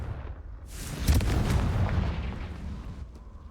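A deep blasting explosion from the Confringo spell in a video game, bursting in with a booming thud and crackling debris, then rumbling down over a couple of seconds.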